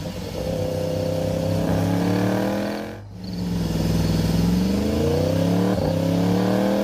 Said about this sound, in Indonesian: Ya, sekalian manasin motor nih, Pon.